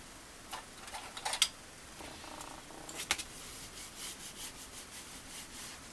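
A craft knife draws along the edge of a paper tag in short, quiet scraping strokes, with a few sharper ticks and rasps, close by and faint, and no voices.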